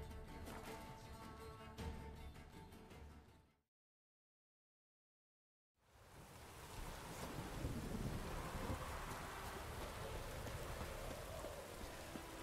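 Heavy, steady rain pours with a rumbling undertone in The Witcher 3: Wild Hunt – Hearts of Stone, cuts to total silence for about two seconds, then returns just as dense.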